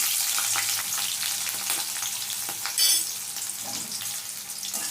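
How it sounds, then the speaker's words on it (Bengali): Chopped onion and green chilli fry in a pan with a close, crackling sizzle. Occasional stirring scrapes cut through the hiss, with no talk. "ভালো করে লাল করে ভেজে নেব পেঁয়াজ আর লঙ্কাটা"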